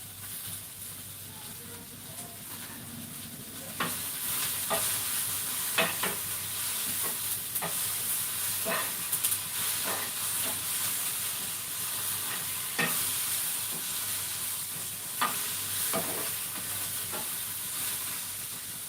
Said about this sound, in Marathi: बघा असं थोडं थोडं करून आपल्याला हा मसाला भाजून घ्यायचा आहे